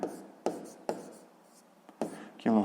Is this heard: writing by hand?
yes